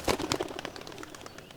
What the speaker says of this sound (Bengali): চলেন এই দুটোকে আকাশে উড়িয়ে দেই